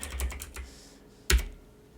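A quick burst of keystrokes on a computer keyboard, a few soft clicks followed by one sharper, louder tap, close and alone.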